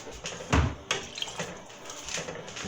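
Water is poured into a pot of pirate stew with chicken bouillon, giving close splashy bursts and gurgling pours in uneven spurts over a low kitchen background, with no talking.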